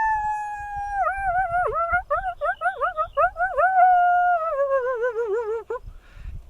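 A coyote in Yellowstone gives a territorial howl: a long, clear, rising-and-falling wail broken by a quick series of yipping warbles, then a sliding fall, heard alone and fairly close.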